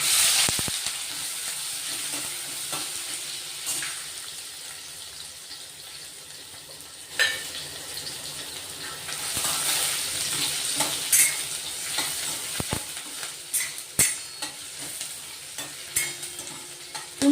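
Peanuts and a little chopped onion frying in a pan, a steady moderate sizzle with intermittent stirring scrapes and sharp clinks of a spoon against the pan, no speech.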